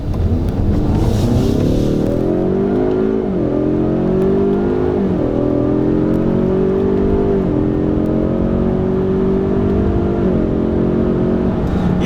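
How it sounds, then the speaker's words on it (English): A 2018 Ford Mustang EcoBoost with the performance pack accelerates hard in first gear from inside the cabin, its engine note climbing steadily in pitch with a few brief dips, loud and continuous. "I'm gonna go ahead and do another roll on to the power here in first gear."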